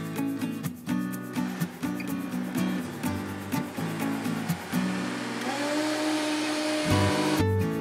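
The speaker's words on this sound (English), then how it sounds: "Blend on high until liquefied." A blender motor runs loud and continuously on high, liquefying butternut squash soup, its whirring pitch shifting slightly as the contents churn.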